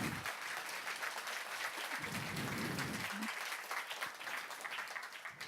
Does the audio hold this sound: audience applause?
yes